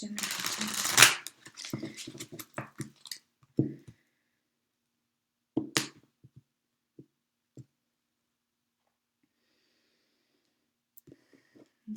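A close burst of shuffling from a Halloween Tarot deck by Kipling West is followed by a few scattered soft card taps and clicks, with quiet stretches between them and some talking.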